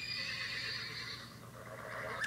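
Funny horse neigh ringtone playing from a phone: one long, bright whinny that wavers and fades, followed by a short squeal, heard clearly and close with no talk over it.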